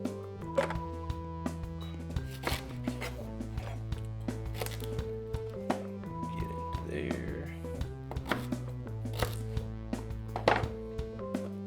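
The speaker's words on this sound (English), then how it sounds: "We're gonna just chop this fennel bulb" A knife chops a fennel bulb in a series of irregular, crisp cuts, set against steady background music.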